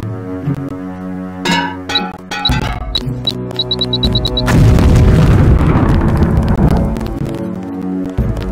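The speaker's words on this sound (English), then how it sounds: "If you aren't close enough, the LAM will fall to the ground and detonate." In the video game Deus Ex, a LAM mine beeps a rapid series of short tones, then detonates with a loud, booming blast that rolls on into debris and crackle.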